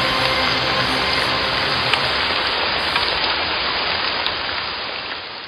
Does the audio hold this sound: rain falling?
yes